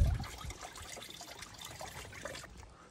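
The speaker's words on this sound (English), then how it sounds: "Okay, so we got coolant draining." Coolant draining from a Mercedes during a water pump job: a faint, steady trickle of liquid, soft and fairly distant, with no voices over it.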